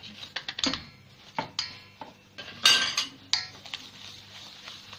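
A spoon clinks and scrapes against a bowl while stirring yogurt in irregular bursts, with short pauses between strokes.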